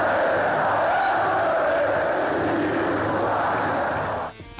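Football supporters chant together in a dense, sustained roar that fills the whole clip, steady and loud throughout before cutting off abruptly near the end.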